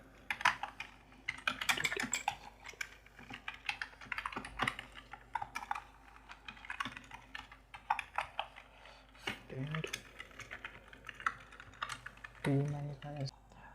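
Code being typed on a computer keyboard: steady runs of quick clicking keystrokes in bursts, close and fairly quiet, with someone talking in between and over them.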